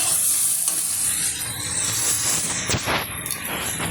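Fish sizzles as it shallow-fries in oil with tomato in a kadai, being stirred. A loud, dense hiss and crackle continues without a break, with a brief louder spatter near the end and no talk.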